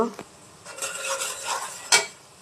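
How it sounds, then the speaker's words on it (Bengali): Onions frying in a pan until browned, for a Bangladeshi puti fish and tomato dish: spoon scrapes and light clinks of metal on the pan over a faint sizzle, with one sharper knock near the end. "এখানে পেঁয়াজটারও লাল লাল করে ভাজি নিব"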